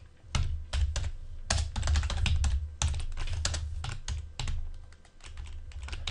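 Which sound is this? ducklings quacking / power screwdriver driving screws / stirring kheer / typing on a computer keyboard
typing on a computer keyboard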